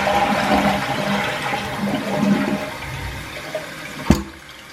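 A household toilet flushing after vinegar cleaning, a loud rushing swirl of water that drains and settles into softer tank refilling, ending with a sharp clunk.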